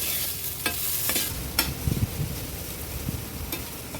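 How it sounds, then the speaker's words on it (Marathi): Chopped onion and green chillies fry in oil over a wood-fired stove while being stirred, a steady close sizzle broken by scraping stir strokes and light clinks of the pan. "कांदा तेलावर व्यवस्थित परतून घेते"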